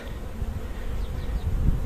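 Bees buzzing around a bucket feeder while drinking sugar feed, a dense continuous hum close to the mic, fairly loud and steady throughout.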